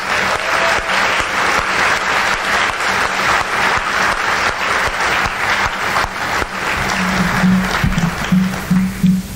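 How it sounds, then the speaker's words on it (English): Sustained audience applause fills a school academic awards program, a dense even wash of many hands clapping at steady loudness throughout, with a low hum beneath and no speech over it. "please, round of applause for those guys"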